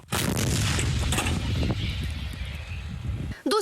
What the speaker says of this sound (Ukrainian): Гармата! Остріл!